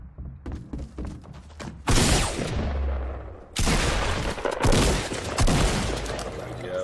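Shotgun blasts in the Fortnite battle royale game: a few sharp shots up front, then heavy, loud bursts of gunfire crashing in around two and four seconds and echoing on, with no talk.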